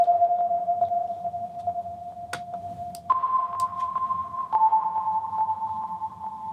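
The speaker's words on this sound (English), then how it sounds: "Really like using these sonar sounds in my tunes." Synthesized sonar pings ring out as steady pure tones that step up in pitch, with a few sharp clicks and a low rumbling bed underneath.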